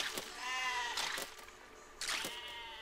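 Sheep bleat in the Besiege video game, with several loud, wavering bleats that overlap in quick succession and come in two clusters separated by a brief lull.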